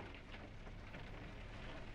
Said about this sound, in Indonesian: Ini lagi hujan.